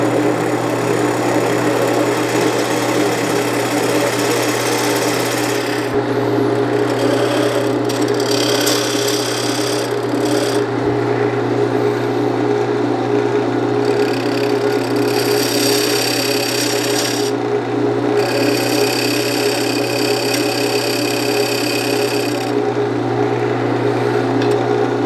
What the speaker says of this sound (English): Just using my diamond tool here to establish a dovetail on the inside